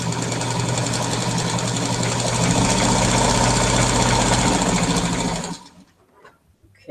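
A sewing machine chain-pieces quilt fabric, running in a loud continuous rapid whir for about five seconds before stopping abruptly, followed by faint handling sounds.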